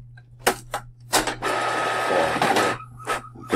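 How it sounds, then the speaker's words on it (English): An office printer runs off shipping label sheets: a few short mechanical clicks and feeds, then a long whirring print pass and closing clunks, close up with no talking. "You can hear the print going off."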